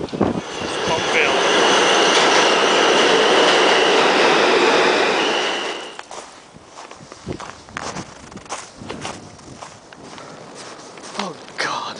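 A New York City F subway train roars loudly and steadily past during a 2011 snowstorm, then cuts off abruptly, leaving quieter station noise, footsteps and some talk.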